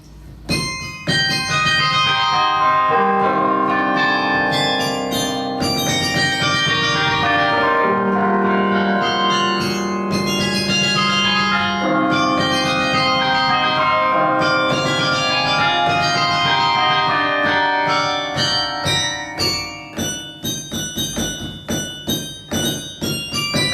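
Carillon bells in Bathurst rung from a clavier, a long melodic run of struck bronze tones with lingering overlapping resonance, loud and full, ending in quicker repeated strikes.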